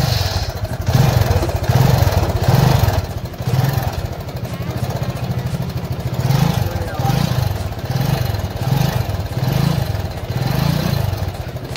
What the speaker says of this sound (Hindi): इसके इंजन से टाइमिंग चेंज की आवाज़ आ रही है